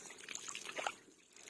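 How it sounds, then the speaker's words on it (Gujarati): Water trickles and drips in a farm field, a faint, thin splashing with a few brief bright droplet sounds. "આ પાણી છે આપણા ખેતરમાં જ છે."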